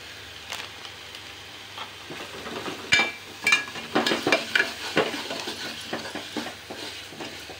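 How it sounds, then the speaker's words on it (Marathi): Walache birde, a dish of field beans, roasts in masala and garam masala in a pan, with repeated spoon scrapes and metallic clinks over a low sizzle, louder in the second half; no talking. "हे छान असं मसाल्यामध्येच भाजून घ्यायचं"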